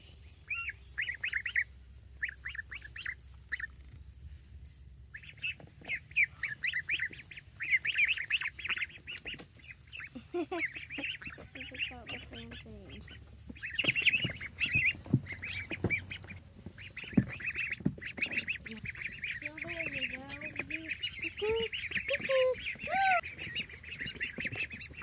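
Ducks quack repeatedly in a busy outdoor chorus on a homestead, with honking calls and bird chirps mixed in, growing louder and more crowded in the second half.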